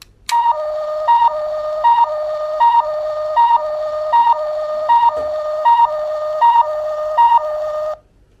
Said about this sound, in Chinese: 最后一个呢是初代奥特曼彩色计时器的声音啊